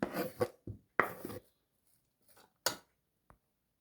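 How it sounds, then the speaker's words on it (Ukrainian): An onion is cut with a knife on a cutting board in a handful of separate crisp chops, close and clear, with quiet gaps between strokes. "І далі нарізуємо цибулю."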